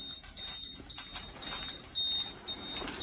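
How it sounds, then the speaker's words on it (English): A high-pitched low-level tank alarm beeping in repeated pulses, fairly faint over background noise, sounding at a steady intermittent rhythm. "The level alarm that you can hear is the low level on the tank."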